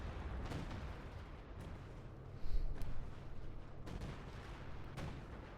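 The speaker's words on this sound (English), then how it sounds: "Oh, sector artillery." Sector artillery fire in the video game Company of Heroes 2 booms in a series of distant blasts, one heavier impact midway, over a constant rumbling battlefield din.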